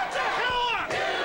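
Loud crowd of wrestling fans at a pro wrestling event in the Pittsburgh-area WrestlePlex, 1997, roaring and yelling in a dense, continuous wall of cheering that briefly dips before surging again.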